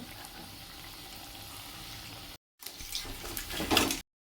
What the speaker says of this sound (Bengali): মা ভেজে নিচ্ছে